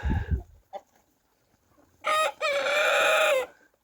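A rooster crows loudly and close by, a long drawn-out call after a short cluck and some faint scratchy farmyard sounds.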